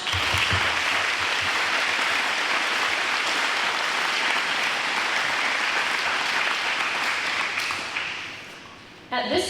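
Sustained audience applause fills a high school Veterans' Day program hall, dense and steady, then tapers off near the end as a few voices rise.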